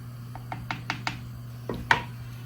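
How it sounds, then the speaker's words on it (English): A utensil scrapes the bottom of a soup pot for chowder: a run of short, close scraping strokes over a steady low hum, ending in one sharper scrape. "And scrape the bottom, guys."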